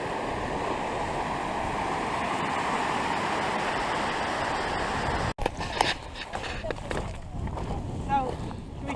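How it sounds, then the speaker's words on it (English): Fitzroy River in Patagonia rushing past in a steady, dense wash of flowing water that fills the first half, then breaks off abruptly into a rougher, gustier stretch with wind buffeting the microphone. "next to the Fitzroy River"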